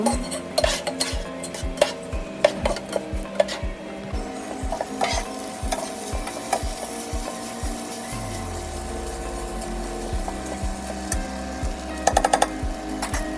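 Spoon stirring washed rice into an oily spice mix for coriander-leaf khichuri, with repeated scraping strokes against the pot over a steady low sizzle, close and alone without talk.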